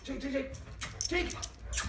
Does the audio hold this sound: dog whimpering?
yes